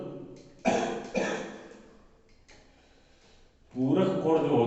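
A man with a cold coughs and clears his throat twice in a row, the bursts loud and close, then after a short quiet stretch his voice comes back as he starts talking.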